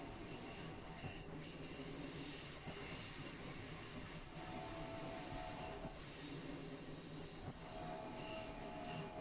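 A train in the Mittenwaldbahn train simulator game slows to stop at a station, with a steady rumble of rolling wheels and brief high wheel squeals, continuous and close throughout.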